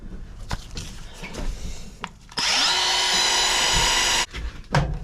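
A power tool smooths manufacturing ridges inside an Audi A3 tire, grinding with a steady, loud whine for about two seconds after brief bumps and handling noise.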